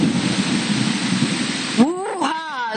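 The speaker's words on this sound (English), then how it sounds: "There you go, thunder." Steady rain hisses during a tropical thunderstorm while a low thunder rumble rolls underneath, then voices break in toward the end.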